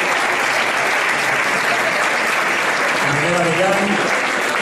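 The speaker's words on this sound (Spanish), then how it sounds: "Yo creo que de forma muy especial se merece una ovación David Mora, porque hay que animarlo" Audience at a bullfighting awards gala giving an ovation, loud continuous applause from a large crowd with a voice briefly rising over it near the end.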